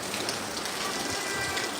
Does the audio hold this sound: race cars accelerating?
no